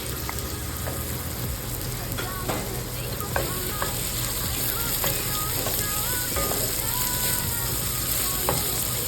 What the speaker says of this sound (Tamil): இப்போ எடுத்து வச்ச வெங்காயத்தையும் போட்டுருது.